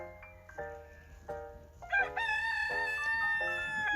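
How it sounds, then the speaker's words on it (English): A rooster crows outside a car, the call rising into a loud, drawn-out cock-a-doodle-doo after a few softer clucks and a short first crow, all fairly distant. "I don't know which chicken that is."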